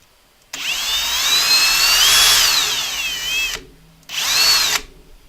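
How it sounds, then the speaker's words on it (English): A power drill runs up close while threading onto a rocket motor tube: one long loud whirring burst of about three seconds that rises and dips in pitch, then a short pause and a second shorter burst. "got in my drill, and I'm just going to thread it on to the motor tube."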